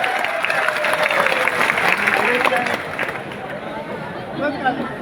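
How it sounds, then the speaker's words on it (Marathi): Crowd applause at a political campaign rally in Bhadgaon, a dense sustained clatter of many hands clapping close by, tapering slightly toward the end with some crowd noise mixed in. "त्यांच्यासाठी एका जोरदार टाळ्या वाजवा"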